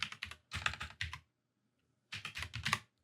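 Short command typed on a computer keyboard, heard as two close bursts of quick key clicks separated by a silent pause.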